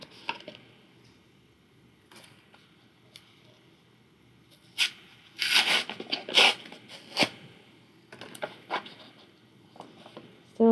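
Paper seal film on an organic product container is punched through and torn, giving several sharp crinkling and tearing bursts in the middle of otherwise quiet handling noise.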